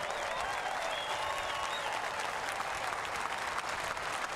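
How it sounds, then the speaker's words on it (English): Crowd applause at a NASCAR Cup Series race honoring military service members, a dense, steady wash of clapping from a large stadium audience sustained throughout without a break. "Let's give these brave men and women a round of applause"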